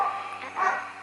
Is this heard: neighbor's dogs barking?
yes